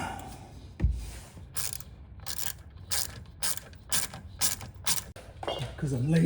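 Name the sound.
Ryobi power tool removing bolts on Range Rover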